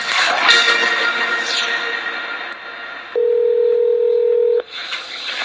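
A steady telephone tone sounds at the start of a recorded phone call, holding for about a second and a half after a stretch of busy background noise, then cutting off abruptly as the line connects.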